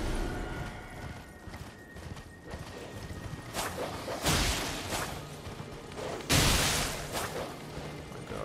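Horse hooves pound in a quick galloping rhythm in Elden Ring, loud and close, broken by two sharp bursts of impact or whooshing combat noise partway through.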